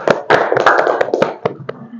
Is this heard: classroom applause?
yes